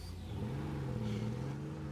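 Van engine in the video game State of Decay 2 revving steadily as the van sits stuck, a continuous mid-pitched drone with a slight rise in pitch, close and alone without voices.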